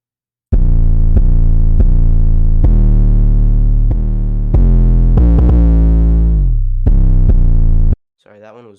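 Distorted 808 bass melody programmed in FL Studio, loud and saturated, with a run of sustained notes stepping up in pitch, then gliding down low before a final note and a brief quieter tail.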